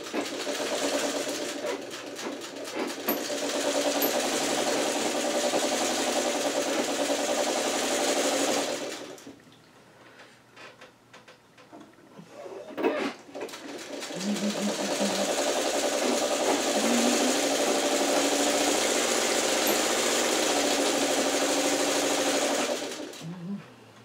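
A sewing machine stitches quilt blocks for a churn dash quilt, a steady fast mechanical whir running in two long bursts with a short quiet pause between them, close and moderately loud, with no talking.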